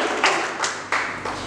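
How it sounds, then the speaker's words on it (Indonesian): Four separate hand claps spaced about a third of a second apart, close and moderately loud, ringing briefly in a church during an Easter service. "Kita beri tepuk tangan sekali lagi"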